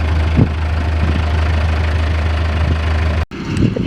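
A farm tractor engine idles nearby with a steady, loud, low rumble and light knocking, briefly cutting out near the end before resuming.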